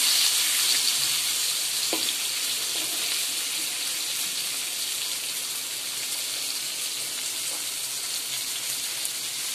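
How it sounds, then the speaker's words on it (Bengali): Fish fry steadily in a pan on a home kitchen stove, giving a loud, continuous, close sizzle with a few faint clinks. No one speaks. "এই যে কিছু আছে বাটিতে ভাজা হচ্ছে।"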